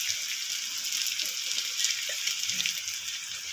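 Besan (gram flour) coated in oil with a little salt and turmeric frying in a pan while being stirred: a steady, close, bright hiss of sizzling oil with faint scraping underneath and no voices.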